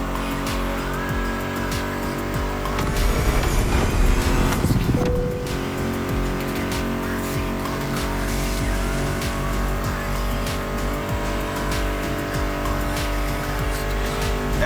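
American muscle car engines roaring in the racing game The Crew Motorfest, a loud sustained rumble with a surge and tire squeal partway through, mixed with a steady music soundtrack.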